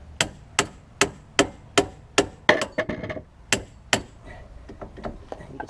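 Hammer blows driving a ball joint out of the steering knuckle on a 2000 Buick LeSabre control arm: about nine loud, evenly spaced metallic strikes, then a few lighter, quicker taps trailing off.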